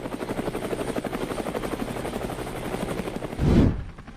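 A large CH-53 military helicopter roars steadily with a rapid, heavy rotor thump, close and loud, then swells briefly before cutting off.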